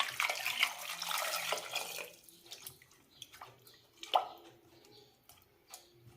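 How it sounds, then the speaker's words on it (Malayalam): Water poured over sweet potato pieces in a pot, a steady splashing rush for about two seconds that thins into sparse drips and small sloshes, with one brief louder splash near the end. "കിഴങ്ങ് മുങ്ങത്തക്ക വിധം വെള്ളം ഒഴിക്കാം."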